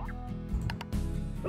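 Painted chickens in the video game Slime Rancher cluck and gobble softly, with a few brief bird calls over a dense, steady game background of music and ambience.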